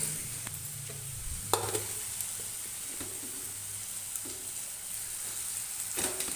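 Mashed boiled potato being stirred into hot oil and spiced masala in a pan over high flame, a steady low sizzle with occasional scraping stirs, close and moderately quiet.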